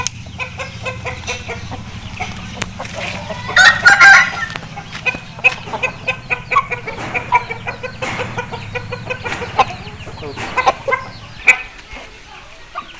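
Aseel hen and topla rooster clucking and crowing nearby in a repeated, uneven series of calls, with someone talking over the birds.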